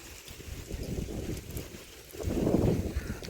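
Cold wind blows across a mountain, buffeting the microphone with a rough, gusty rumble that swells louder toward the end.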